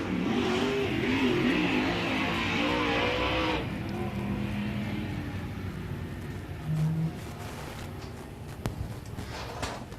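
A Gunslinger Modified race car at Big O Speedway rumbles loudly at close range and then eases off, its engine note dropping and settling into a lower idle.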